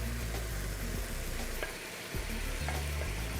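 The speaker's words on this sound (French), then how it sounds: "Et là, je fais suer mon oignon." Sliced onions and peppers sizzle steadily in a pan while being sweated for piperade, a continuous crackling fry with occasional stirring scrapes, close and alone.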